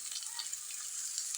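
Banana stem sautés in a hot pan with a steady, bright sizzling hiss, continuous and fairly quiet, with no voices.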